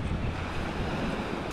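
Seashore surf rushes in a continuous broadband wash, mixed with heavy wind buffeting the microphone, with no voices.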